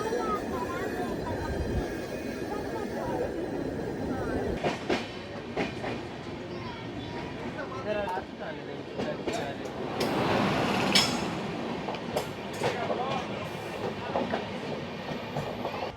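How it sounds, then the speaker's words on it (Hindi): The Dakshin Express passenger train, running from Nizamuddin to Hyderabad, rolls along with a steady rumble and clickety-clack of wheels, heard from on board with a constant, moderately loud wash of noise and some voices in the background. "ये भाई दक्षिण एक्सप्रेस जो कि निज़ामुद्दीन से हैदराबाद को जा रही है"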